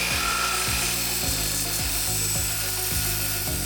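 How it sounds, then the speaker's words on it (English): Vinyl railing being cut with a miter box, hacksaw or chop saw, a fast, regular back-and-forth stroking rhythm of about two strokes a second over a constant mechanical hum, close and continuous. "Now, cut both rails with a miter box,"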